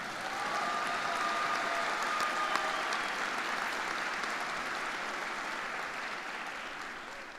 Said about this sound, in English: let's give them one last round of applause as well